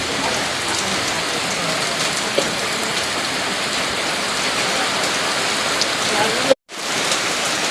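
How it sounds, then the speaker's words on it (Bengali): Heavy, unbroken rain pours down in Jianagar, Pirojpur, a dense, loud hiss of drops on surfaces that holds steady and cuts out abruptly near the end. "অনেক বৃষ্টি হচ্ছে।"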